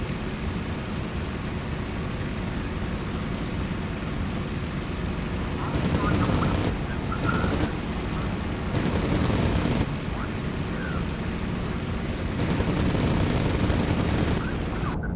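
Aircraft machine guns fire in Cliffs of Dover, a WWII flight game, over a steady roaring engine drone, with three or four sustained bursts of rapid gunfire rising above the noise, no voices.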